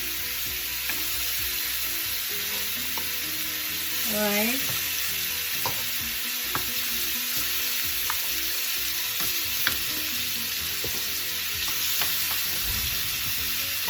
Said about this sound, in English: just go ahead and add all of the meat to the frying pan